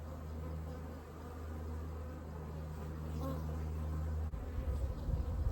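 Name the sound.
honey bees buzzing around an open hive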